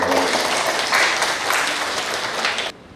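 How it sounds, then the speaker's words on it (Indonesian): An audience at a regional meeting before an agreement signing applauds. Steady, dense clapping from a room of people fills the space, then cuts off abruptly just before the end. "tepuk tangan ini"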